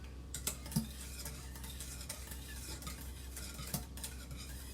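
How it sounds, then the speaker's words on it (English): Chicken velouté sauce is whisked in a pot, a soft steady swishing with a few light metallic taps against the side, faint and close over a low background hum, no talking. "I'm using a whisk now, cause the spoon wasn't doing me no real justice"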